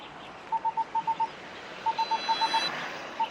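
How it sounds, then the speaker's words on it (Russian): Steady electronic door-open warning beeps from an Xpeng P5 electric car sound in quick bursts of three, repeating at a regular pace over faint background noise. "Машина пищит, предупреждает водителя о том, что дверь открыта"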